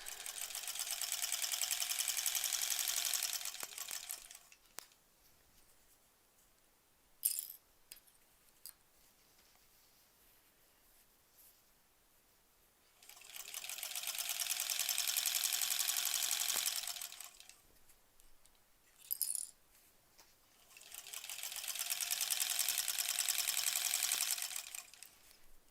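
A sewing machine runs in three long bursts as it stitches around the edge of an embroidered pillow case, with its whirring hum stopping between runs and a few clicks and handling noises in the quiet gaps.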